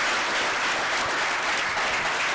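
An audience at a global health crisis event breaks into dense, continuous applause that fills the room evenly, with steady clapping from many hands and no voices over it.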